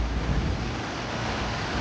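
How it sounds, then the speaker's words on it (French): Open ocean waves washing around a racing sailboat in the Vendée Globe after a storm, a steady broadband rush mixed with wind noise, close and continuous, with no voices. "Les vagues aussi, elles se réduisent."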